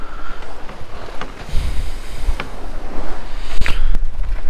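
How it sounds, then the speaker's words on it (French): A sailboat rolling on a rough, choppy sea with almost no wind, about eight knots: waves slap and thump irregularly against the hull, with creaks and a brief rattle over a constant wash of water. "la mer est carrément plus formée que jusqu'à présent. Et il n'y a presque pas de vent."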